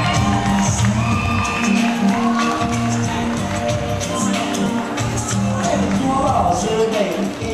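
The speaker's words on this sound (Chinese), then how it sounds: "我们联合颁奖掌声欢迎" An audience at the grand final of a Hakka and Hokkien singing competition in a shopping centre cheers, whoops and claps for award winners, a loud continuous crowd roar with a tonal backing sound underneath.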